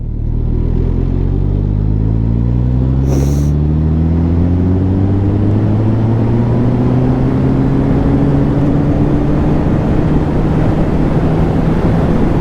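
A Honda CB1000R motorcycle engine pulls steadily in top gear from low speed, with a deep, loud, continuous drone whose pitch rises slowly as it accelerates and a brief click near the start.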